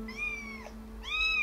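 A cat meows twice, a long rising-falling call followed after a short pause by a second, louder one, close and clear over a low steady hum.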